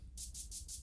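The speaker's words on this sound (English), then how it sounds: "this shaker" A shaker sample in a programmed drum pattern, rattling in four quick hissy bursts that blur into a steady sizzling rhythm, alone and moderately quiet.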